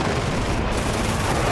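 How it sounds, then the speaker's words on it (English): A missile launching in the DCS flight simulator during a YF-23 Black Widow II dogfight, a dense, loud, continuous rushing roar that fills the whole brief moment with no pauses. "Missile out, missile out."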